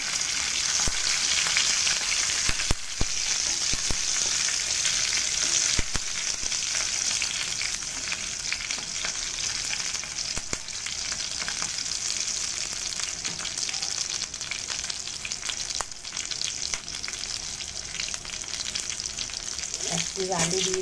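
Capsicum sizzles steadily in hot oil in a pan while cooking for a chicken kasha curry, a dense continuous crackle that stays loud and close throughout, with occasional stirring clinks and no talking.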